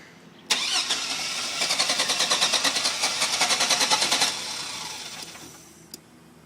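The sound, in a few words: engine cranking and starting after possible flooding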